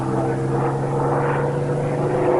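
A propeller aircraft engine drones steadily and loud throughout, a continuous low hum with a strong tonal band and a broad rushing wash above it, matching a Messerschmitt Bf 109 single-engine fighter.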